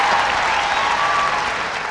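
A crowd applauds at the 2003 Westminster Kennel Club Dog Show as a Kerry Blue Terrier is shown, with steady, dense clapping that carries through loud and unbroken from start to finish.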